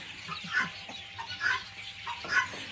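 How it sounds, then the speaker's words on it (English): Chicken clucking in short bursts, three soft clusters of clucks spaced about a second apart, fairly faint and with no voices over them. "I seem to be thinking about that adorable chicken looking at me."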